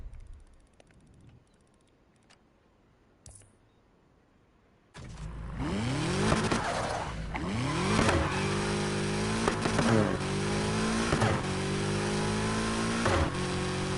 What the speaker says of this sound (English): I want you to listen to the engine that's in there.